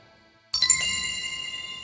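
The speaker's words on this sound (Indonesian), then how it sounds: "Mukouda meracik highball dingin menggunakan gelas mithril buatan Sui, membuat Alesh terperangah melihat es batu dan air soda" Ice cubes clink against a mithril glass of highball with soda in a single bright, close chime that rings on and fades slowly.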